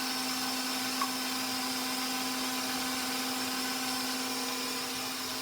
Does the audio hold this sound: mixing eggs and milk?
yes